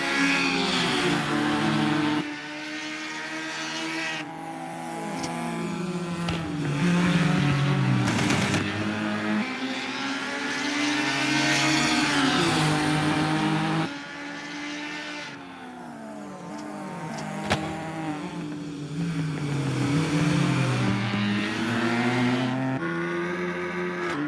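Cubman race cars from a racing series' final round scream around a circuit, engines rising and falling through gear changes as several cars pass close by in continuous loud succession, with no talk.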